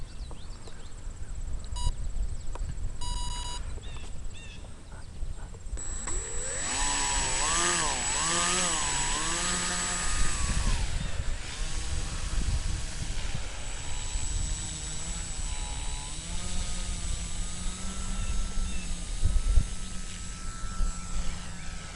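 An EPP Quick Stick RC plane on its third flight takes off and flies, its electric motor rising into a loud buzzing whine that wavers in pitch as it climbs and passes, heard outdoors with no talking.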